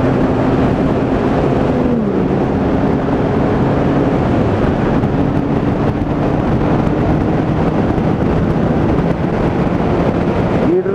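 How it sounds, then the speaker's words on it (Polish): Strong wind buffets the microphone with a loud, continuous, roaring rumble for the whole stretch, and faint traffic tones show through underneath. "Ale wieje."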